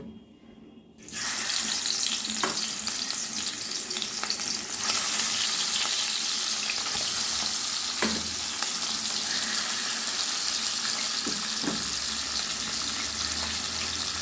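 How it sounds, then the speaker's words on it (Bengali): Steady loud sizzling and crackling of bata fish frying in hot mustard oil in a wok, starting abruptly after a brief quiet moment and continuing without pause. "কড়াইয়ে সর্ষের তেল গরম করে নিয়েছি এবার মাছগুলো আমি ভেজে নিব"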